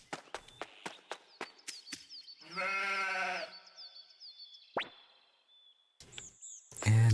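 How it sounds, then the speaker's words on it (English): A sheep in the role-playing game Suikoden II, remastered, gives one clear, wavering bleat after a run of quick soft plops like footsteps. Chiming game sounds follow, with a sharp blip at the close. "The sheep ran that way."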